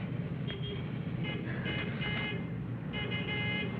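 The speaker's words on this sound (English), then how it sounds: "There's my bus now." A city bus pulls up in street traffic, its engine rumbling continuously with short, faint beeping tones and honks nearby, no talking.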